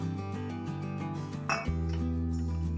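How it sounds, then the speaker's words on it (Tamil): Beetroot pieces drop into a steel mixer jar with a bright clink against the container, heard once amid a steady low background hum. "இந்த பீட்ரூட் இந்த ஜாரில் போட்டுக்கலாம்"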